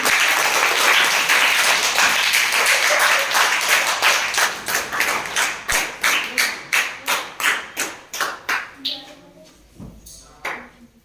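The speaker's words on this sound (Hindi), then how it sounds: "संयुक्त रूप से आयोजित इस विज्ञान की सदन की शुरुआत जोरदार तालियों" Loud applause opening a science session, a dense crowd clapping that thins into slower, separate claps and fades out, with a voice starting to speak at the end.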